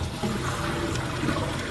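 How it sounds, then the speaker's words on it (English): A toilet cistern refills after a flush, a continuous close rush of running water holding steady for a couple of seconds. "my toilet is flushing properly because that is now working, filling that up"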